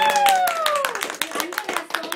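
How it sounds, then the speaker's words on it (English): Clapping at a kindergarten Thanksgiving event, a quick run of sharp hand claps under a sustained tone that slides downward, with some voices mixed in. "We can clap for them"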